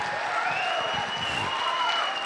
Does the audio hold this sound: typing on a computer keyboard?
no